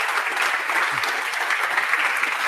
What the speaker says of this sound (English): can I get a big applause?